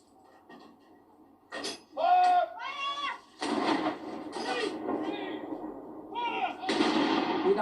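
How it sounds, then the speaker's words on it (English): Ceremonial artillery gun salute fired by the Honourable Artillery Company in London for the 41-gun salute to Prince Philip, Duke of Edinburgh, with a deep booming report rolling out under a commentator's voice and crowd ambience. "the simultaneous second shot has been fired by the Honourable Artillery Company"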